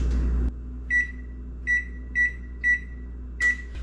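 Kitchen oven set to preheat to 450 degrees Fahrenheit gives five short, evenly spaced electronic beeps, fairly close over a faint steady hum after a brief burst of noise.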